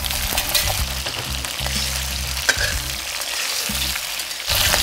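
Marinated eel pieces are pan-fried with ginger in a hot oiled wok, giving a loud continuous sizzle with intermittent scraping and stirring knocks throughout.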